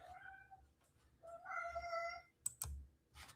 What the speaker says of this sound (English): You hear my cats in the background.